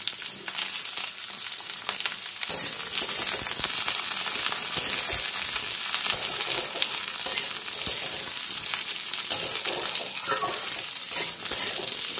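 Potato and pointed gourd pieces fry over a medium gas flame for a Bengali chapor ghonto, giving a loud, unbroken sizzle close by with the scrape of stirring in the pan.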